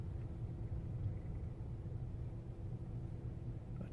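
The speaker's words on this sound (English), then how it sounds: "I think that might be the train." Low, continuous rumble of a passing train heard outdoors near a cemetery during heavy rain, a faint, distant steady drone without distinct peaks.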